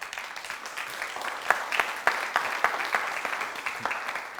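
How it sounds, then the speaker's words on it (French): Modest audience applause on a TV entertainment show, moderately distant clapping with a few sharper individual claps standing out, no voices over it. "Merci de les applaudir."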